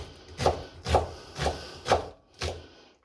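A knife cuts through leek and vegetables for soup on a wooden board, making five evenly spaced, crisp chopping strokes at about half-second intervals, close and clear.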